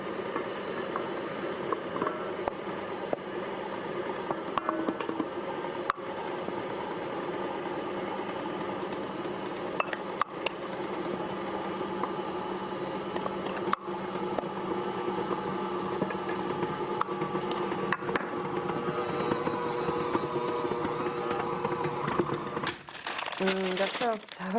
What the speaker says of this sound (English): use the stand mixer